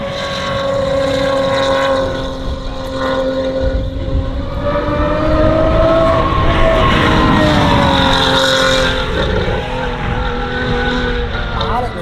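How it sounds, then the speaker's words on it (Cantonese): A sports car engine roars and revs close by, its pitch rising and falling as it accelerates, with a voice talking over it. "個引擎聲都幾好聽咁好似"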